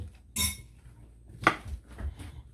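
Russian salad being mixed in a bowl with a spoon, a few distinct clinks and scrapes of metal against the dish spaced out over a quiet background.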